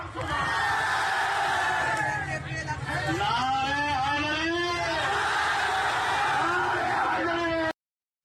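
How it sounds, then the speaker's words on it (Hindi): A large crowd gathered at a political event in Bengal, heard as a loud, continuous roar of many voices with shouts and chanting rising and falling throughout, dense and close, cutting off abruptly near the end. "क्या भयंकर भीड़ वहां इकट्ठा हो गई थी।"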